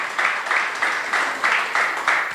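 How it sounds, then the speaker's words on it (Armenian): A church congregation claps together in a steady rhythm, the claps falling in even bursts about three times a second and filling the room. No one speaks over it. "Եկեք մի հատ ծափարենք Սակո։"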